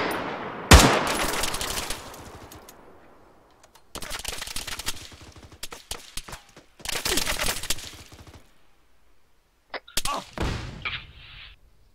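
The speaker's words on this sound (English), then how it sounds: "Team 2 taking fire" Machine-gun fire rings out during a fireteam training exercise: a sharp, loud opening shot, then several separate bursts of rapid automatic fire with short pauses between them, echoing across open ground.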